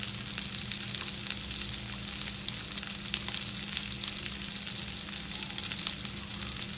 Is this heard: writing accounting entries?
no